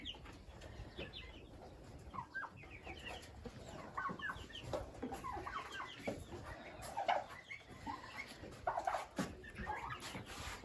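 Wyandotte chickens cluck and chatter close by, a busy scratchy flock with overlapping short calls over a rustling, faintly noisy background; no talking.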